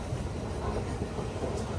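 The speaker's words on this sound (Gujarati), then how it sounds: "સીટ વાળી હે મેટ્રો તો. Metro underground." An underground Delhi metro train runs along, a steady close rumble of wheels and motor filling the carriage with even, unbroken noise.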